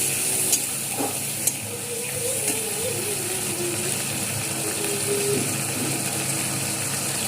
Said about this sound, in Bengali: আদাটাকে কষিয়ে নেবো।